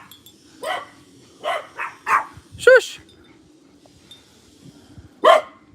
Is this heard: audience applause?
no